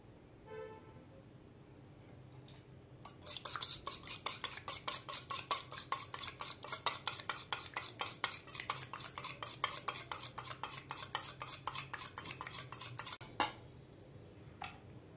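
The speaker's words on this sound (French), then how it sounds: "on va battre un œuf avec un peu de vanille" An egg with vanilla whisked in a bowl, a fast steady run of light clicking strokes lasting about ten seconds, fairly quiet, with a faint clink near the end.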